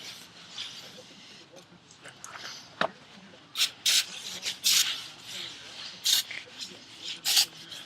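Grease is cleaned off brake rotors during a brake job, with short, sharp hissing and wiping bursts close by, some brief and some longer, set against faint background noise.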